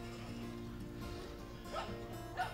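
A dog named Bruce barks and yips faintly in the background, with two short, slightly clearer yelps near the end over a steady low hum.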